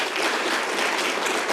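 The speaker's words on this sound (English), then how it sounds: "I hope you'll give a round of applause to Avery" A panel audience gives a round of applause for the organizer of an event on American elections. Dense clapping from many hands fills the room, steady and fairly loud for a brief moment, with no voices over it.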